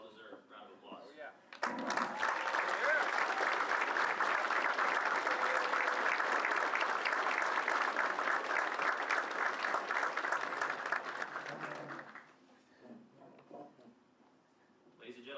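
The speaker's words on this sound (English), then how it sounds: "Will the spouses and family members of Class 24 Echo please rise and be recognized with a well-deserved round of applause." Loud round of applause from an audience at an Air Force Airman Leadership School graduation, starting abruptly after brief talk, sustained dense clapping for about ten seconds, then fading as a voice resumes.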